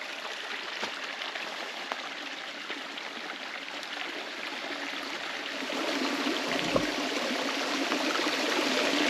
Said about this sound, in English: at Brooks Creek. Very beautiful creek, indeed.